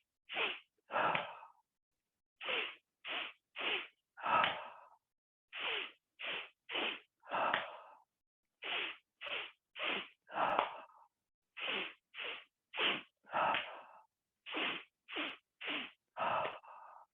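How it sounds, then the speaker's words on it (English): Repeated breaths exhaled through the mouth during a gentle guided relaxation exercise, about twenty short close puffs in a steady rhythm, some paired with a fuller, longer sigh-like release, with silence between them. "so you're breathing out through your mouth"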